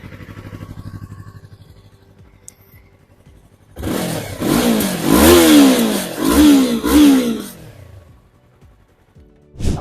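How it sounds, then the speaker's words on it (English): A Yamaha R3 or MT-03 motorcycle idles quietly, then its engine revs loudly several times in quick surges before dropping back to a low idle. "And this is what the exhaust note sounds like."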